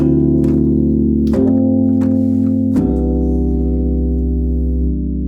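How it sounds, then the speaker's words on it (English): A ii-V-I progression voiced with ninths and a suspended chord in place of the dominant, three sustained chords struck in turn and left to ring, with light percussive ticks between them and no voices. "let's play it with 9ths, and let's use a sus chord instead of the"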